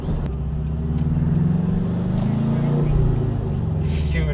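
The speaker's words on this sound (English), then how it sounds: "Supercharger sounds great." Supercharged Subaru BRZ engine running under load, a close, steady drone with shifting pitch from inside the car, with a brief hiss near the end; people talk over it.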